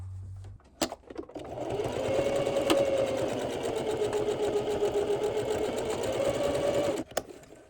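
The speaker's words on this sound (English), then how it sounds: "Now I'm going to sew across this line that I made on each side of the bag." A sewing machine stitches across the boxed corner seam of a drawstring gift tote bag in one sustained run of about five seconds, close and clear, with a few sharp clicks before and after.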